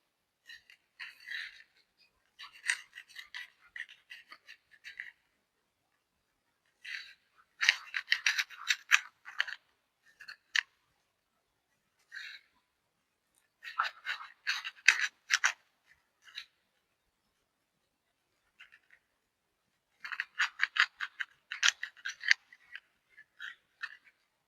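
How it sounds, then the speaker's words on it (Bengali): A knife slices through a tomato on a board in short bursts of crisp cutting and scraping strokes, separated by silent pauses. "আবার আমি টমেটোটা কেটে নেবো।"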